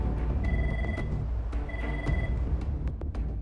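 A telephone rings at a busy towing business in the town of Hope during a blizzard, the repeated electronic ring sounding in bursts over steady background noise.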